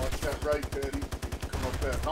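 Rapid automatic gunfire from the Socom game rattles in steady, fast bursts that run nearly the whole time, loud and close with a brief pause before resuming.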